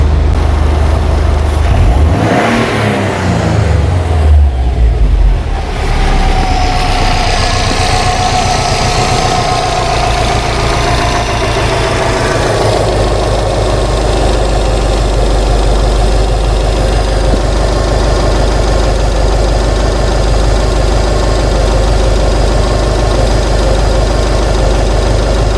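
A 2008 Subaru Legacy engine with a failing cam position sensor, heard up close: a quick rev rises and falls, then the engine settles into a steady, loud idle that drones on.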